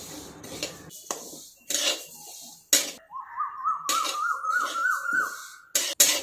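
Cumin seeds roasting in a pan over a low gas flame, with repeated clinks and taps of a utensil against the pan and a wavering squeaky scrape as they are stirred, close and clear.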